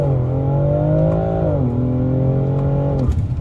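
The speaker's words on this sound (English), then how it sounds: "launch control activated" A 2020s BMW X3 M Competition (F97) launches hard under launch control, its loud engine note climbing steadily, dipping at a gear shift and rising again before easing off, heard from inside the cabin with no talk.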